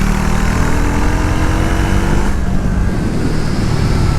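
A Triumph Tracker 400 motorcycle on MRF dual-purpose block tyres accelerating hard toward top speed, a loud, steady engine drone with heavy wind rush that shifts pitch midway as it changes gear.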